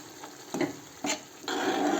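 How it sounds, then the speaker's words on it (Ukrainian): Mushrooms simmer in sour cream in a pan while a spoon stirs them, producing a few close scraping strokes over a soft bubbling hiss, with no one talking. "І просто отак помішуємо щоб закипіло."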